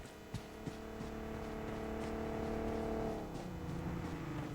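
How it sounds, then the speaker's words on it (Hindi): A vehicle in the mobile battle-royale game BGMI approaches with a rising, droning engine tone that swells, then drops in pitch as it arrives. A few sharp clicks come earlier, and nothing else is heard. "अब यहाँ आती है गाड़ी"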